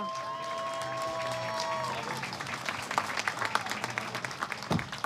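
A crowd at the Rallye Antibes Côte d'Azur claps and cheers for the rally winner, applause swelling from a distance and growing denser, with a brief tonal sound fading at the start.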